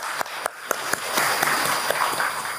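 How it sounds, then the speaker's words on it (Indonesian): A short burst of applause from a small audience at an inauguration ceremony for provincial Dekranasda leaders, claps starting sparse and building into a steady patter over a few seconds. "Boleh tepuk tangannya untuk Dekranas Indonesia."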